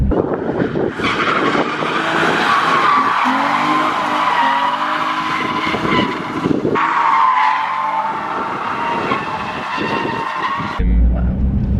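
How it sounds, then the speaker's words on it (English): A drift car runs flat out in fourth gear on the Mondello race track, its engine roaring close and loud while the tires squeal and skid almost continuously, with brief gear-change dips. "when we're drifting here in Mondello, it is flat out in the top end of fourth gear"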